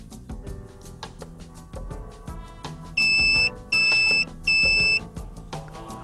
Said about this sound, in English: The application is automatically switched off once its time has run out, which is signaled by 3 beeps.